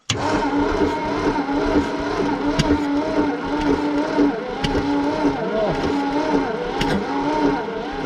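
An abandoned 1951 Ford Flathead V8 with gas poured down the carburetor cranks over in a loud, close, rhythmic churning that runs steadily for several seconds with occasional sharp clanks.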